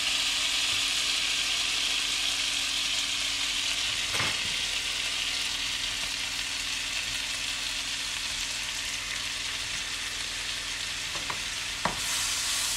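Onions frying in sesame oil hiss and crackle steadily at close range, a constant dense sizzle with a few faint stirring knocks scattered through it.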